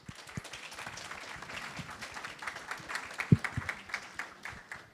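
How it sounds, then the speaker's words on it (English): Scattered audience applause at the Ghana-Canada Investment Summit, a steady, moderately distant clapping that carries through the whole stretch, with a few sharper claps standing out near the end. "Please give a round of applause for MC Ebone."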